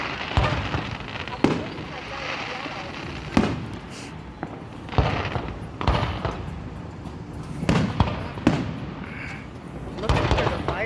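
Fireworks burst at a 2021 show in Exeter, California, with a string of loud, sharp booms and crackles coming every second or so, some near and some farther off, while voices chatter through the pauses.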